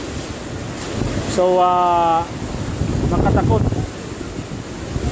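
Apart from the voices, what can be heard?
strong typhoon wind of Super Typhoon Goni (Rolly)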